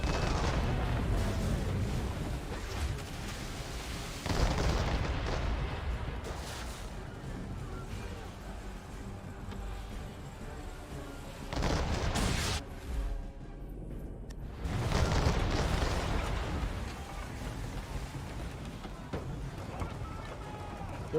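Enemy ships' cannon fire and explosions in Assassin's Creed III Remastered come as a few heavy booming blasts spread over a rumbling naval battle, with a voice speaking at times.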